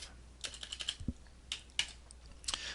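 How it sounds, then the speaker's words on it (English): Clicks from a computer keyboard while setting a trace width in circuit board design software, a few scattered keystrokes in an otherwise quiet room, fairly close and crisp. "So I'll hit W on the keyboard for width."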